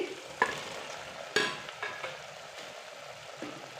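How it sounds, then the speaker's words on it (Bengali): Soya chunks tipped into a pan of curry base and stirred, a soft background sizzle broken by a few sharp clinks and scrapes of a spatula on the metal pan, close and fairly quiet. "এবারে সোয়াবিনগুলো দিয়ে দিচ্ছি।"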